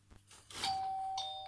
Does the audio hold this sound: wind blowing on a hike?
no